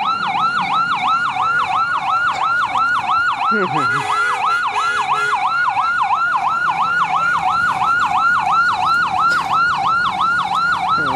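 A loud ambulance siren wails continuously in a fast repeating up-and-down cycle, close by, with faint road traffic underneath.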